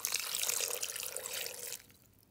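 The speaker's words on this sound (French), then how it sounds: "je vais ensuite rajouter un verre d'eau" Water from a glass is poured steadily into the mix while making homemade butter, giving a continuous splashing trickle that stops abruptly near the end, leaving a quiet room.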